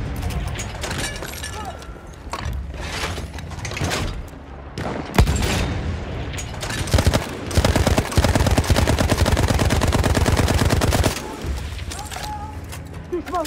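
Gunfire and bomb explosions in the Battlefield video game: dense rapid shooting swells loud through the middle, with heavy bursts and crashes over a busy battle din.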